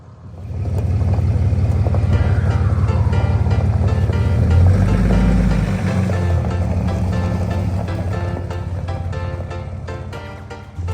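Vehicle towing a trailer down a mountain, its engine giving a loud, steady low rumble that rises and shifts slightly partway through, close and continuous for the whole stretch.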